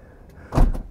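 A short electric motor whir followed by a soft thud as a Volkswagen Multivan T6 power door shuts at the press of a button, close and brief.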